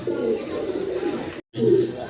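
Pigeons at a pigeon farm coo in a low, continuous, throaty murmur, close and moderately loud, broken by a brief silent gap before resuming.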